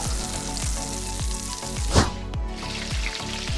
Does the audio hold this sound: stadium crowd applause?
no